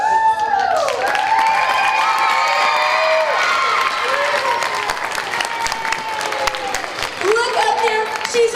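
An elementary school morning assembly audience claps and cheers loudly for a teacher. Children shout and whoop in high excited voices through sustained applause.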